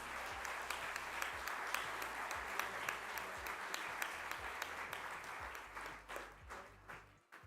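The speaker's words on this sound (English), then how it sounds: "Let's have a big round of applause for the students." Students at a graduation felicitation ceremony receive a big round of applause from the crowd: dense, even clapping holding steady for several seconds, then thinning and fading toward the end.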